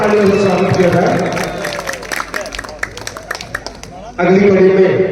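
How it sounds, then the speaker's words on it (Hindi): An audience at a Ramlila committee award ceremony claps for a performer coming up to receive a prize, with scattered, moderately loud applause and crowd hubbub that gives way to a burst of louder sound near the end. "जोरदार तालियों से स्वागत किया जाए"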